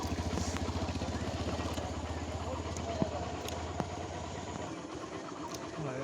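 A motorcycle idles with a steady low rumble as it is brought to a stop and parked at the side of a muddy rural road, with a couple of sharp knocks, a voice speaking over the engine, and the engine note dropping near the end.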